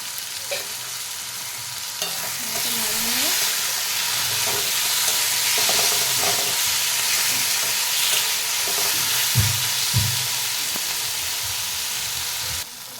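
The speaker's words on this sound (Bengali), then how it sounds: "এবারে কেটে রাখা টমেটো কুচি দিয়ে দেবো, একটু লবণ দিয়ে দেবো, দিলে তাড়াতাড়ি করে টমেটো গলে যাবে তাড়াতাড়ি।" Chopped tomatoes with salt fry in a pan for a bhola fish curry, a loud steady sizzle running throughout, with several scraping stir strokes of a spatula partway through and no talk.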